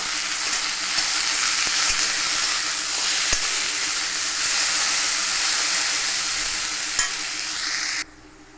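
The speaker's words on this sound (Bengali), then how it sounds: "যে লবণ হলুদ দেবো আলুটাকে ফিফটি পার্সেন্ট ভেজে দেবো" Potato pieces fry in hot oil with salt and turmeric for Bengali chickpea chola bhaja, a loud, steady sizzling hiss up close with a couple of faint clinks from utensils, cutting off abruptly near the end.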